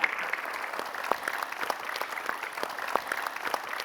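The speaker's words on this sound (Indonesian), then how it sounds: "tepuk tangan" Applause from a comedy show audience, a dense patter of clapping with sharper individual claps standing out, steady and moderately loud for a few seconds with no talk over it.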